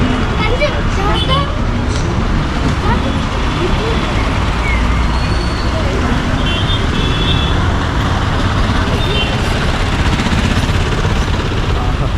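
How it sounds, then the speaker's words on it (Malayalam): Steady, loud road rumble and engine drone fill the ride on the top deck of a double-decker bus moving through Thiruvananthapuram traffic, with wind-like noise throughout and no pauses. "ഡബിൾ ടക്കർ ബസ്സിൻ്റെ മുകളിൽ എത്തിയിട്ടുണ്ട്"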